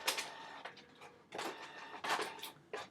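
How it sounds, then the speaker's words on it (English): A home printer runs through a print job, giving a steady, fairly faint mechanical whirr and rattle with brief ticks and louder surges of the moving parts, heard alone without speech. "someone's trying to print on my printer here. So if you hear all the crazy noises,"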